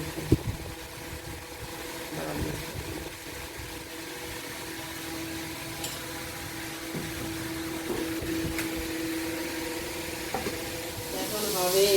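Fish and shrimp frying in a pan make a long, even sizzle with occasional stirring knocks and faint background voices.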